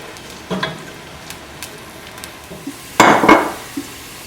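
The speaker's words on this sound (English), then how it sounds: "fry the onion in the oil until it becomes golden brown" Onion frying in oil in a pan, a soft steady sizzle under a few close utensil knocks and scrapes, with a louder burst of stirring near the end.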